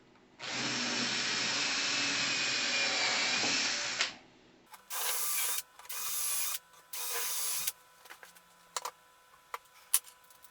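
A power drill whines for several seconds, then runs in three shorter bursts, followed by scattered light clicks and knocks.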